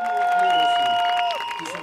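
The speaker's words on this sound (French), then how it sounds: "la foule laisse exploser sa joie" A crowd outside the Greek Parliament cheers and claps after a vote result, with whistles and shouts over steady applause that fades slightly toward the end; a voice speaks over it.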